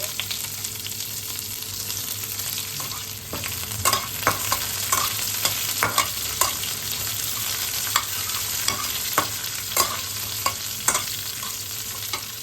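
Chopped onion, mustard seeds and urad dal fry in a mix of oil and ghee, a dense continuous sizzle with scattered pops and spoon clinks as they are stirred, no talking.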